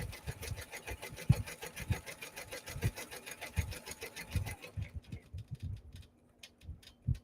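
An embroidery machine stitches a bag strap with a steady rapid mechanical chatter and rhythmic thumps, running continuously up close before the stitching slows and pauses near the end.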